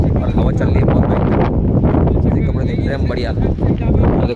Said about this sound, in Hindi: मस्त और हवा चल रही है बहुत भाई